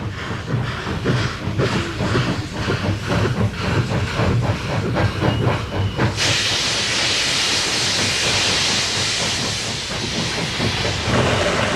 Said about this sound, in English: Here's a steam locomotive of a kind that's popular among railway buffs everywhere